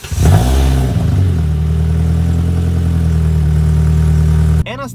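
A Toyota Yaris GRMN engine fires up with a loud rev, then drops into a steady, close idle that hums for several seconds before cutting off abruptly.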